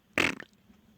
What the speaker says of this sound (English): Sorry about that fart.